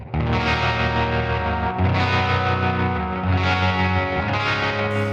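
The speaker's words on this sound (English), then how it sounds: "It's just a clean sound with a tremolo on." Clean electric guitar run through a Sonicake Matribox II Pro multi-effects unit with tremolo engaged, played as sustained chords with a steady pulsing modulation, loud and close with no voices.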